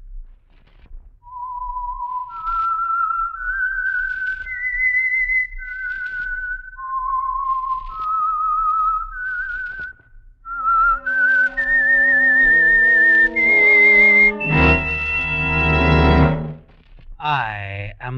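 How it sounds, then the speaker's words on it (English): A clear, melodic whistle plays a slow rising and falling tune, followed by a bright, loud orchestral swell as the theme builds. "the signal to listen for is this whistle that identifies the Signal Oil Program"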